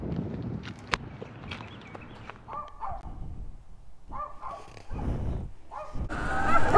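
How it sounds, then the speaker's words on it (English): A dog barks in several short bursts at mid distance outdoors, heard over wind and the rumble of a Surron X electric dirt bike being ridden. "Dog's going crazy."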